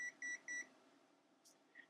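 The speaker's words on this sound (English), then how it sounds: "you can hear the beep. It knows it's in continuity." A Fnirsi 2C53T handheld multimeter gives its continuity beep: three short, evenly spaced high beeps close up, then a quiet room with faint handling noises.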